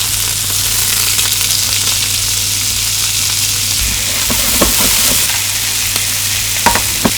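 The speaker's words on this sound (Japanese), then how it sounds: "しめじ入れます。しめじを炒めていきます。 チキンが焼き色がついたのでひっくり返しましょう。" Shimeji mushrooms and chicken fry in sesame oil in a pan, giving a loud, continuous sizzle with occasional crackles and stirring clatter close up, with no talking.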